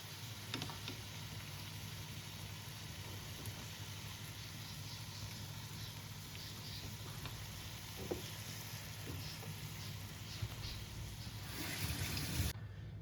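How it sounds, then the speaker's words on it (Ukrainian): Continuous bubbling and hissing of water coming to a boil in a pot for pasta, steady and moderately quiet, with a few small clinks. "Наша вода закипає"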